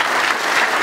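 Applause from a church congregation during a sermon, a loud, dense clapping of many hands heard close up for under a second.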